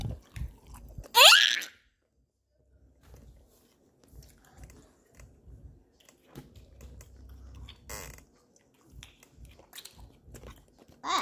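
Soft, wet chewing of gum close to the mouth, in a slow steady rhythm with brief pauses, after an early burst of louder noise.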